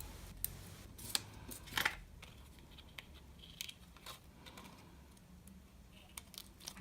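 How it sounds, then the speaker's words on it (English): Scissors make small, crisp snips as they trim the corners of a paper bookmark, a scattered series of quiet, close cuts with faint paper handling in between. "Trim those little corners."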